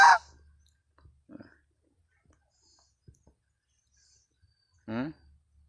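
A goose honks close by, with one loud burst at the opening and a second honk near the end, separated by faint rustles and near-silence.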